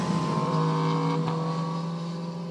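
A motor vehicle passes on the road with a droning exhaust note that rises slightly and then settles, loud and close and fading gradually, with no talk.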